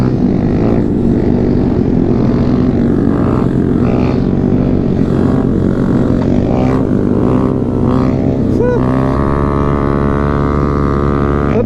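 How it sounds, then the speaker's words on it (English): A helicopter flies overhead, its steady rotor and engine drone loud and continuous for the whole stretch, droning on without a break and with no voices. "I'm pretty sure that's the chopper."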